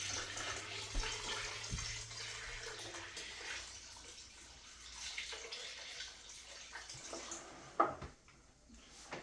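Tap water runs steadily for several seconds while a water dish is topped off, a soft broadband hiss with a brief louder splash near the end, fairly close and with no talk.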